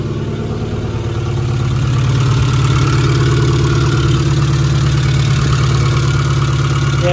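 Ford Sierra Cosworth engine running with a blowing exhaust, a loud steady idle with a throbbing low drone and a slight rise in level early on, heard close with no voices.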